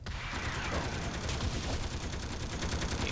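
Machine gun fire from a Force enemy in City of Heroes rattles continuously as a steady rapid stream of shots, loud and unbroken across the whole stretch with mechanical clatter mixed in.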